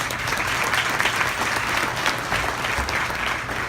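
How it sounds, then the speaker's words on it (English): A room of guests at a charity luncheon in New York applauds an organization in a sustained, dense round of clapping, steady and fairly loud throughout with no speech over it. "we should give them a round of applause"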